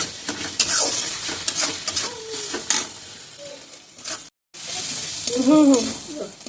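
Spice paste sizzling in a pan for a Bengali banana-flower dish, a steady frying hiss with intermittent stirring scrapes, near and moderately loud, briefly cutting out before the sizzle resumes; a voice is faintly heard at moments.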